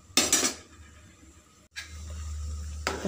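A metal lid being set on a pot of chow chow sambar, two sharp clanks of metal on metal with a ringing rattle between, close and fairly loud in a quiet kitchen.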